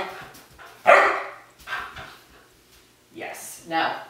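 A Goldendoodle gives a few short barks and yips at irregular intervals, fairly close, with quiet gaps between them.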